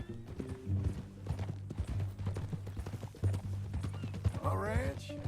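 Hooves of a horse in Red Dead Redemption 2 clip-clop at a steady walking pace, close by, with a short whinny near the end, while voices talk over the footsteps.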